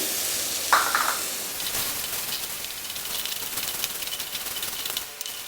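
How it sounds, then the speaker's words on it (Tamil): Onion and spinach sautéing in a pan, a dense hiss of sizzling that fades slightly over time, with an occasional utensil scrape near the start, no speech. "வெங்காயம் வந்து நல்லா வதங்கணும் வதங்கிட்டு கீரையும் போட்டுக்கலாம்"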